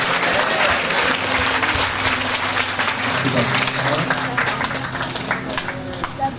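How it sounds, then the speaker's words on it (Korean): Steady applause from a church congregation at a camp worship service held together with people with disabilities, a dense, continuous wash of many hands clapping that fills the room throughout and eases slightly toward the end. "되게 해주신 우리 하나님께 감사와 영광의 박수를"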